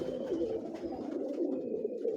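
Pigeons coo softly on a Lahore rooftop, low rolling calls repeating in a continuous murmur at moderate distance.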